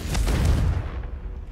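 A fiery blast spell goes off in the Hogwarts Legacy video game, a loud, deep boom followed by a rumbling tail that slowly fades out.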